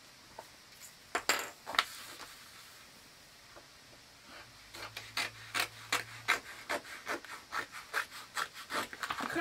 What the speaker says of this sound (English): I'm gonna go ahead and cut off some of the excess around my spiral that I do not need.